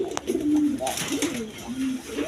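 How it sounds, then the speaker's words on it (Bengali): A pair of big black Indian Bombay pigeons coo in low, rolling phrases, several soft calls in a row heard close by, with faint background noise and bits of voice. "এক পেয়ার ইন্ডিয়ান বোম্বাই কবুতর আছে একদম বিগ সাইজের ব্ল্যাক কালারের"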